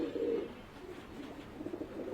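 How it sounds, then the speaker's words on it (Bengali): A crowd of pigeons in a loft in Mirpur, Dhaka coo in low, throaty, overlapping rolls, rising and falling in short bursts close by. "এই যে দেখতেই পাচ্ছেন মাশাআল্লাহ অনেক অনেক কবুতর"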